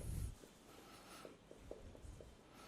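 A word being written by hand during an eighth-grade English lesson: a handful of faint, short pen scratches in quick succession against a quiet room hum.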